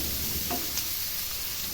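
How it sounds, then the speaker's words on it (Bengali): Vegetables fry in a pan with salt added and are stirred, giving a steady close sizzle with faint scraping of the stirring utensil. "লবণ দিয়ে ভালো করে নাড়াচাড়া করবো"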